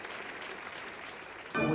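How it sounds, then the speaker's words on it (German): An audience at a ballet competition in Vienna applauds in a steady, moderate wash of clapping heard from a distance, then a louder burst of sound rises abruptly near the end. "Und noch einmal Applaus und Juhu-Rufe für Amaya Iglesias aus Spanien."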